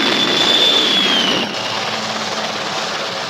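A Sea King anti-submarine helicopter flies past with a loud, steady rotor and turbine roar and a high whine that slides downward, then drops abruptly to a quieter, duller drone.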